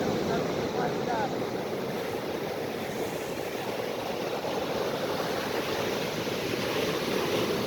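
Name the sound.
ocean waves surf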